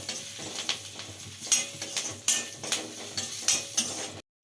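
Tempering of mustard seeds, dried red chillies, curry leaves, turmeric and asafoetida crackles in oil under a soft sizzle, while a spoon repeatedly scrapes and clinks against the pan in irregular strokes until the sound stops.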